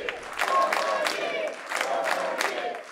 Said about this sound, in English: Others in the seats chanting